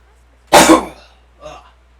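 A person gives a single sharp cough, followed a moment later by a second, softer cough, close and alone against quiet background.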